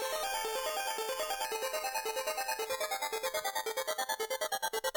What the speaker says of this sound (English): The bit crusher is slowly increasing in the amount it is bit crushing,